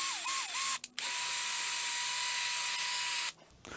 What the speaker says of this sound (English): This is a plastic bristle brush.